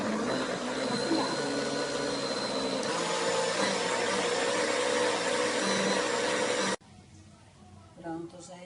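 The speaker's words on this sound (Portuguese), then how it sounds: "aqui eu já bati no liquidificador" A kitchen blender whirs steadily as it mixes corn cake batter with milk. The loud, continuous motor drone lasts several seconds, then cuts off abruptly, leaving quieter room sound and a brief voice.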